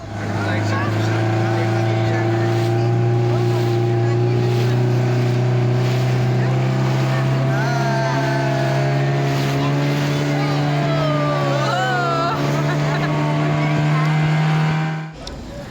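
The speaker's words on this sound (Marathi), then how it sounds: "आम्ही एका छोट्या बोटीने किल्ल्यात प्रवेश करणार आहोत" A small motor boat carries passengers across the Arabian Sea to the Alibag sea fort, its engine droning loud and steady throughout, with wind and water noise and faint voices over it.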